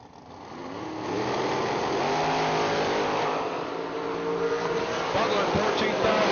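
Dragsters launching down a drag strip at a bulb nationals meet, including a 2015 dragster, their engines roaring loud and sustained with rising revs, announcer talk faintly underneath.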